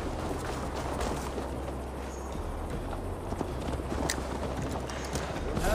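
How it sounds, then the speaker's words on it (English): Horse hooves clip-clopping while riding in Assassin's Creed Valhalla: a steady, moderately loud trotting rhythm over a low ambient rumble, with voices talking over it. "Mount up, Eivor. It's a long ride to Tamworth"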